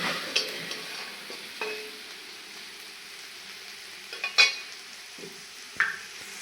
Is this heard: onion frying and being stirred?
yes